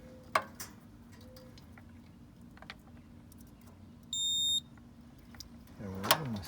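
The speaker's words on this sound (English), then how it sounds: "I'm going to turn the dummy beep back on." A continuity tester on an AC unit's dead-shorted compressor gives a single short, steady electronic beep amid quiet workshop handling clicks and faint background hum.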